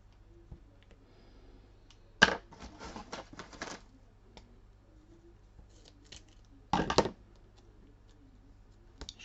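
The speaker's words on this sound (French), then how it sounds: "Donc là je mets du gros scotch comme ça" Two quick bursts of thick adhesive tape and 3D foam tape being pulled and torn off a roll while making a 3D card, separated by a few seconds of near silence, close and fairly soft.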